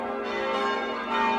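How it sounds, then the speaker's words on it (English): Church bells ring continuously at Houghton village church in England, a dense, sustained wash of overlapping peals that stays steady and fairly loud throughout the short stretch, with no voices over it. "Hopefully you can hear me above the sound of the church bells."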